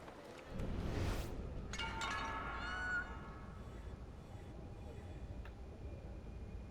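Cat in the Assassin's Creed Black Flag video game giving a drawn-out meow, heard near and moderately loud after a brief burst of noise, then fading into a low ambient background.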